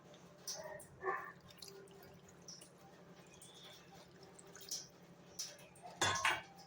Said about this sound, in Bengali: এবার দিয়ে দেবো হালকা একটু জল,